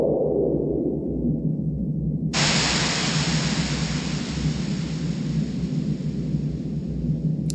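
A low rumbling hum, then a sudden switch to a loud, hissing white-noise whoosh from a Roland JD-800 synthesizer, used as a door sound effect, that holds steady to the end.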